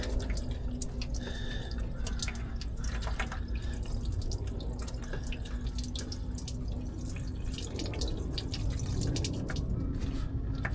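Coolant pouring from a leaking water pump on a 2016 Freightliner Cascadia truck splashes steadily into a bucket, a continuous close trickling and spattering with no talk.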